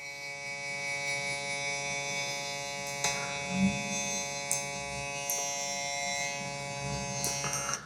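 Electric hair clippers hum with a steady, tonal buzz throughout a taper fade haircut, close and continuous, with occasional brief clicks and scrapes as the blade moves through hair.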